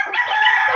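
Close, loud bird call from a backyard flock of chickens at feeding time, a single sustained fowl vocalisation lasting under a second with no talk.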